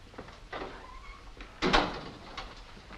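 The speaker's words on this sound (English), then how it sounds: "Close the door." A door closing in a 1962 police drama, a few soft knocks and slides followed by one sharper, louder thud near the middle of the stretch.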